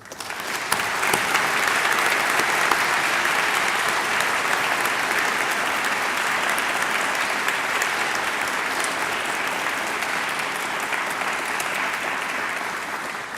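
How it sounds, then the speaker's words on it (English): An audience at an honors convocation in a chapel applauds loudly and steadily, a dense, sustained clapping that fills the room and barely fades over several seconds. "Please join me in a final round of applause to honor their achievements."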